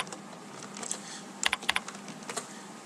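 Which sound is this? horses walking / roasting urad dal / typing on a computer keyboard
typing on a computer keyboard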